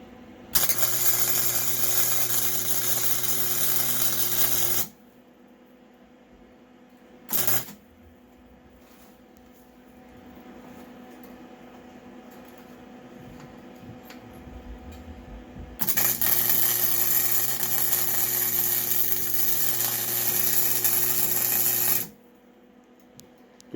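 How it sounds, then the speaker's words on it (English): Tack welding on a school bus roof raise produces two long stretches of loud, steady crackling hiss, with a short burst between them and quieter gaps around them. "start your weld tacking, Maddie."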